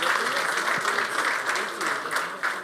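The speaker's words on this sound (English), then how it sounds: "One big applause for him." Steady audience applause for a competitor at a sommelier competition final, a dense, even wash of clapping from a crowd that holds throughout.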